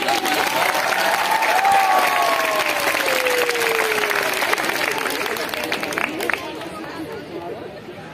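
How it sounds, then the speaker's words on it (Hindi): Loud, sustained applause from a large crowd at a community health officers' protest rally in Farrukhabad, Uttar Pradesh, with cheering and chatter mixed in, tapering slightly near the end. "मैं चाहूंगा एक बार जोरदार तालियां।"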